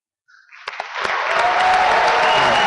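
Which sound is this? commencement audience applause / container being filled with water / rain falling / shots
commencement audience applause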